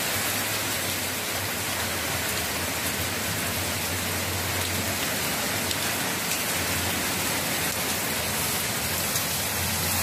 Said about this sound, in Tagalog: ang patak ng ulan ay napakalakas